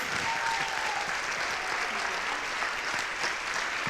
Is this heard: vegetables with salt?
no